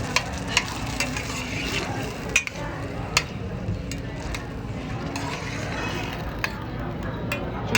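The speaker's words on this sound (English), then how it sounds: "Give it a small stir." Tomato sauce for vodka rigatoni sizzles steadily in a pan while a spoon stirs it, with a few sharp clicks of utensil against the pan over the constant frying hiss.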